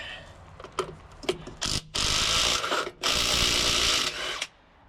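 Impact wrench with a 21mm socket spinning lug nuts off the rear wheel of a 2000 Ford F350 7.3L dually, short bursts then two longer loud buzzing runs with clicks between, up close with no talking.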